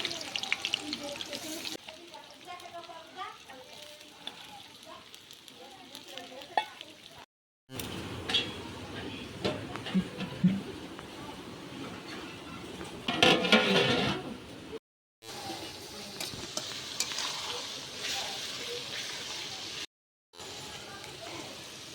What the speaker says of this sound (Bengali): পেঁয়াজ ভেজে ব্রেস্তা বানানো হবে